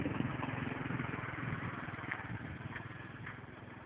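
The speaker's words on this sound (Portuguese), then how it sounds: "Barulheiro que essa moto tá fazendo." A motorcycle engine runs noisily and steadily nearby during a riding lesson, a continuous rough, clattery drone with a throbbing low rumble and no speech over it.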